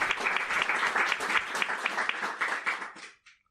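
Applause for Toto Turci at a book launch for "Cielo de Brañosera", dense steady clapping from a room of people lasting about three seconds before quickly dying away.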